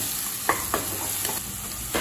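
Tomato masala frying in oil for a yam fry, a steady sizzle under a few distinct scraping stirs of a spoon against the pan, close and moderately loud.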